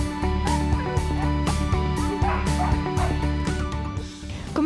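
A young rescue dog barks in a rapid, repeated series of sharp yips and woofs, close and fairly loud, with a few brief pauses and no talking.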